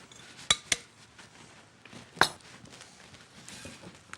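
A spoon stirring chocolate cake batter in a bowl gives a few sharp clinks against the bowl, one pair near the start and another midway, over a quiet, soft background with no talking.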